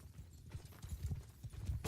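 Rapid clip-clop of horse hooves in a multiplayer video game battle, a dense rhythmic patter close by with a brief whinny-like burst near the end and faint voices underneath.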